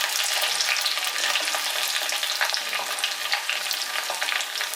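Loud, continuous sizzling and popping of ginger frying in hot oil, close up with no voices.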